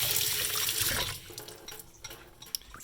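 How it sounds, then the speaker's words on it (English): Water runs hard from a tap as a hand is rinsed under it, with the flow splashing and shifting close by, then easing off near the end. "Then you rinse your hand off."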